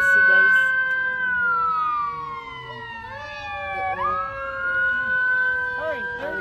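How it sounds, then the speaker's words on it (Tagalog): A fire truck and police car pass with wailing sirens, sweeping tones rising and falling as they approach and go by, loud and close, with people talking now and then underneath. "Firefighters. Fire truck."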